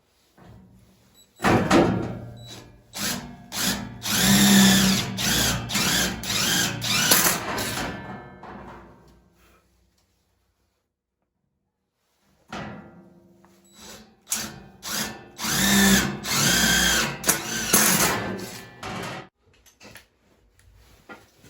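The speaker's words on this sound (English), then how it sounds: "drill bit for the quarter-inch rivets" Power drill boring holes for quarter-inch rivets in the sheet metal of a wood cookstove, two long whining, grinding bursts of several seconds each separated by a silent pause, close and loud.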